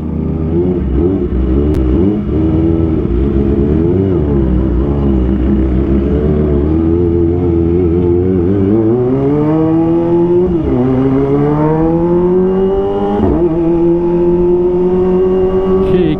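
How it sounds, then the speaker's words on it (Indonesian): Kawasaki ZX25R motorcycle revved repeatedly on a street, its loud high-pitched engine swinging up and down in pitch across several blips and climbs, close and alone. "Ada yang jualan minta geber guys."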